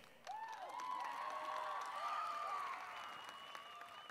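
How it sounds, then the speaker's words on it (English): A high school graduation audience gives sustained applause for the valedictorian at a 2011 ceremony, dense clapping that swells and holds with a few whistles and cheers rising above it. "I would like a round of applause after everything I say."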